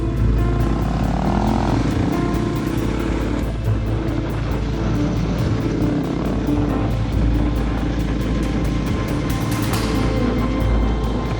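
Off-road adventure motorcycles cruising at an easy pace through early-morning high country in Victoria, Australia, giving a steady, loud engine drone that runs unbroken throughout, with no talk.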